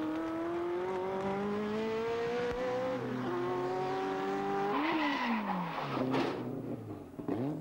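Race cars at the 1987 Le Mans race, among them the factory Pontiac Fiero Group C2, roar past with rising and falling engine notes, pitch sweeping down as they pass and gear changes breaking the drone.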